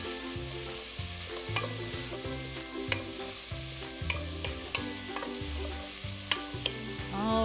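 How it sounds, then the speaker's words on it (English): Vegetables with celery sautéing in a pot for a lentil mushroom stew, a quiet steady sizzle broken by occasional light scrapes and clinks of a spoon, with low tonal music running underneath throughout. "And then we're gonna give it a stir"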